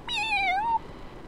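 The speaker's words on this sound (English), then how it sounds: "there would be the logo with a little tiny kitten going, meow." A single short kitten meow from the MTM production company logo, clear and close, rising and falling in pitch before cutting off cleanly.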